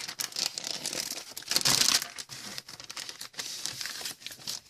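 Plastic packaging wrap film crinkles and rustles up close as it is handled, a busy run of crackling bursts with no talk.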